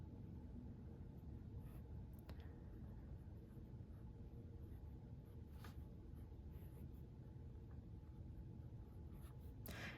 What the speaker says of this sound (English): I just want to show you a writing sample with this pen